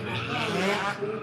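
Go-karts racing around the track at Impact Speed Park make a brief rising engine buzz with a faint tire squeal, heard from a short distance.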